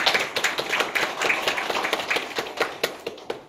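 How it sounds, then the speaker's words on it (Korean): Audience applause at a demonstration ceremony in a hall, a steady patter of many hands clapping at close range for several seconds before thinning out near the end. "박수로 맞아주시면 감사하겠습니다"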